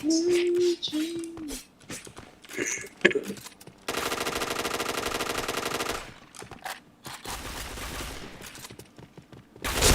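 Rapid automatic gunfire rattles in a shooting video game, a dense two-second burst followed by more scattered shots, with short voiced sounds before it.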